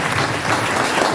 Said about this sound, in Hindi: कादरी साहब ने एक बार जोरदार ताली बनाए